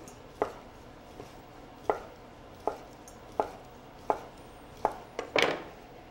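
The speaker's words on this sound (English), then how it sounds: "we'll chop up some sausage for a dish" Sausage chopped with a knife on a cutting board, a series of sharp, separate knife strikes at an uneven pace, close and clear, ending with a quick cluster of cuts, with no talking.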